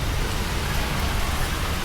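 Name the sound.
rain falling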